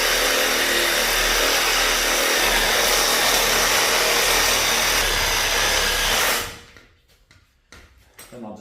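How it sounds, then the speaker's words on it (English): A Sawzall reciprocating saw cuts down the middle of a whitetail deer carcass, its steady, harsh buzzing running loud and unbroken for about six seconds, then stopping abruptly, leaving quiet handling noises and small knocks. "But for right now, I'm just going to take my Sawzall,"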